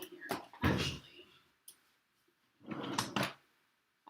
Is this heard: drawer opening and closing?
yes